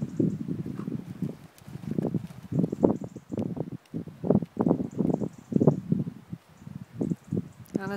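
Horse hooves clip-clop at a canter around a circle, a steady rhythm of muffled, close thuds on soft ground with a light rustle between the strides.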